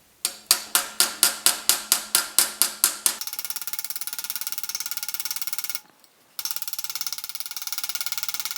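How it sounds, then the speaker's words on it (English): Sheet metal for a custom hood scoop on a GTO restomod is struck by a hammer, about eleven sharp, evenly spaced ringing blows in a row, followed by a steady dense metallic tapping that briefly stops and resumes. "let's just start hammering and see what happens"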